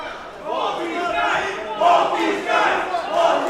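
A large professional wrestling crowd roars and cheers loudly, swelling in waves of shouting and chanting that fill the space.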